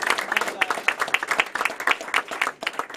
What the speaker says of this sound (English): let's give a round of applause to that.